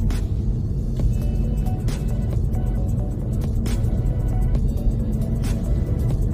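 A Honda Civic hybrid idles with its engine running, a steady low hum and rumble heard up close, with faint ticks and no talking.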